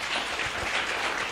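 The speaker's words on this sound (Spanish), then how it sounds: "Démosle un fuerte aplauso." A church congregation applauds during a sermon, a dense, steady wash of clapping heard from within the crowd, brief and moderately loud with no talk.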